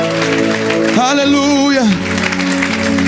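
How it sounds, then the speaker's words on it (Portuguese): Applause from a church youth meeting crowd, a steady clatter running under a voice that calls out and holds a long sung note in the middle. "Pode aplaudir, porque é para Jesus."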